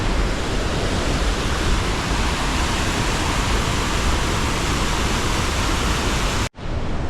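Near a waterfall on Camiguin Island in the Philippines, water rushes in a loud, steady broadband roar that fills the whole stretch before cutting off abruptly near the end.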